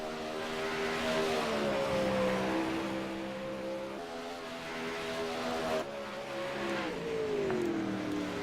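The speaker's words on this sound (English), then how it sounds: "21 machine shutting her down there on the backstretch, so is Bartles" Sprint race car engine droning on a dirt oval track during a racing session, a steady, sustained roar with shifting pitch as cars circle, at moderate distance with no talk over it.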